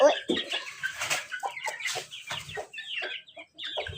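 Chickens clucking inside a covered coop in a village, short busy bursts of clucks and calls close by with some overlapping, and voice-like sounds mixed in.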